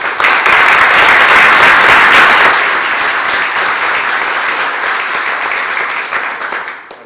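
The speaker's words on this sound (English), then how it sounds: "I just need to applaud this board." Loud, sustained crowd applause at a community event honoring a volunteer board, dense clapping that peaks early then gradually fades out over several seconds.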